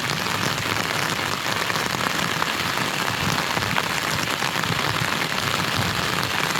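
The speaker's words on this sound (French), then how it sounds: "mes prévisions étaient bonnes, je vous avais dit qu'il allait pleuvoir" Steady rain falling and spattering on surfaces, a dense continuous hiss at constant loudness throughout with no voices.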